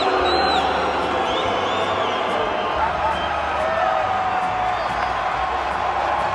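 A crowd at a Lucha Libre wrestling match in Mexico roars steadily, with whoops and cheers rising over a constant wash of noise throughout.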